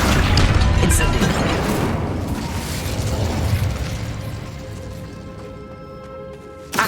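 Incendio fire spell cast in Hogwarts Legacy on PS5: a loud burst of crackling, booming magical fire opening the clip, then a long roaring rumble that slowly fades, with a short pop at the very end.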